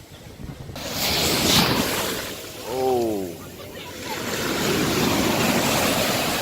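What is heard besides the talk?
ocean waves on a beach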